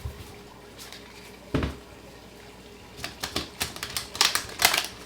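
Tarot cards are shuffled in a few soft, quick riffles, starting with a single snap and then a rapid flurry of crisp flicks near the end, close up.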